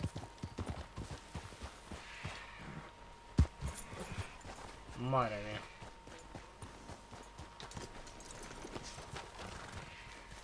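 Horse hooves clop at a steady walking pace in Red Dead Redemption 2, with a horse whinny partway through, under people talking and background game ambience.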